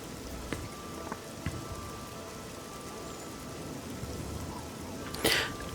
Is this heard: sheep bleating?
no